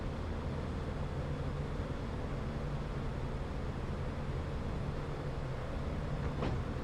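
Trains rumbling in a rail yard within a P-47 fighter-bomber video game, a dense continuous roar with steady low drone throughout and a faint brief whistle near the end.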